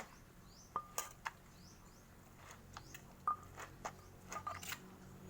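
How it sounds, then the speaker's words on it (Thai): Sesame seeds and peanuts pounded together in a mortar for Thai bamboo-shoot salad, giving a few sharp close knocks at an uneven pace with quiet gaps between strikes, then a quicker cluster of hits near the end. "จากนั้นเราต้องโขลกทุกอย่างรวมกันก่อนพี่น้องคะ"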